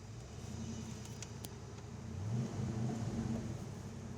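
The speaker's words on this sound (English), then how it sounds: "Key in the ignition. Starts up easily." A cold 1986 Ford Mustang GT with about 71,695 miles idles after starting, a low, steady engine rumble heard up close that swells slightly midway, with no speech over it.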